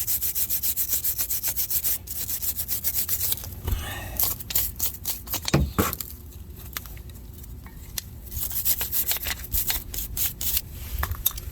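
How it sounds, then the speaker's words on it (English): A brush scrubs brake hardware on a 2012 Chrysler 300 5.7L Hemi in rapid, close back-and-forth strokes, with short pauses and a couple of heavier knocks partway through. "We want to get our brush, and we want to clean inside here."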